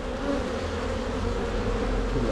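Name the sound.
honey bees buzzing at a populous hive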